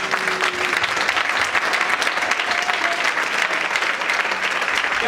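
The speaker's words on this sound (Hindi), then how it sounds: "ताली यीशु मसीह के लिए बजा दीजिए।" A church congregation claps together in sustained, dense applause that fills the room at a steady level from start to finish, with no pauses and no talk standing out above the clapping.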